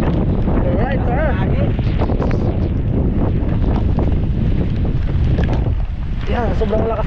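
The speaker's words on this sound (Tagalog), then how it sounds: "sobrang lakas kasi yung hangin dito sa amin" Strong wind roars continuously into the microphone in a coastal village setting, a dense steady rumble with gusting buffets, while someone talks over it throughout.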